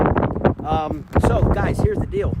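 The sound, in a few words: wind blowing into the microphone outdoors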